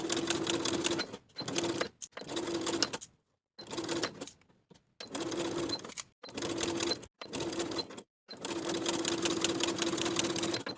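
A sewing machine bastes a dress midriff layer to the bodice in close, loud whirring bursts. Each burst lasts a second or two, separated by brief pauses, with no speech.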